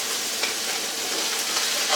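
Steady, even sizzling from a hot pan of beef and broccoli as liquid is poured in to deglaze it, a close, continuous hiss with no talking.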